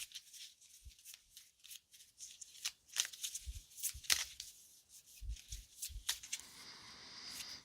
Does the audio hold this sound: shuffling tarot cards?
yes